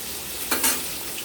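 Stirring a pot of fish head curry with pumpkin and potato just after salt goes in, with a short scraping swish of the spoon against a gentle sizzle and simmer in the background.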